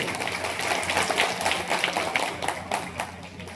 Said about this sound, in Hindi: उनके नाम पर एक इस सदन में जोरदार ताली होना चाहिए